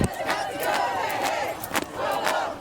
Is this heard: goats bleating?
no